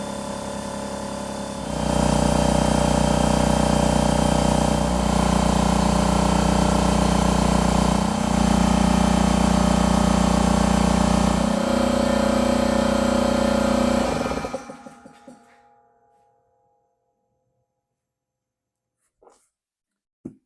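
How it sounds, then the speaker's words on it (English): A repaired Phillips Vision air compressor starts up after a short pause and runs loud and steady with a deep motor hum for about twelve seconds, then shuts off and winds down to silence, with a couple of faint clicks after. "let's fire it up and test it"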